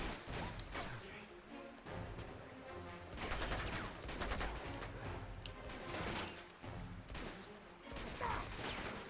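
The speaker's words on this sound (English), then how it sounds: "Oh, who's shooting at me and from where?" Gunfire crackles through a firefight in Uncharted 2: Among Thieves, dense bursts of shots layered with music and game effects, loud and continuous across the scene.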